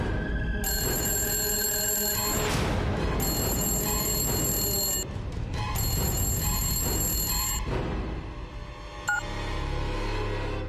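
An old-style telephone bell rings in three long, loud bursts separated by short gaps, clear and close in an indoor setting, with a muffled thump near the end and no speech.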